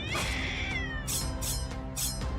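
A cat meows and caterwauls in a parody horror movie trailer, giving a drawn-out yowl followed by several sharp repeated cries, loud and close with no voices.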